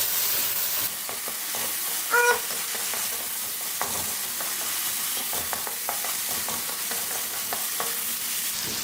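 Chicken sizzling and frying in a pan after spoonfuls of soy sauce and chili sauce go in, for a chicken and vegetable macaroni dish, with steady stirring scrapes and clicks over a constant hiss.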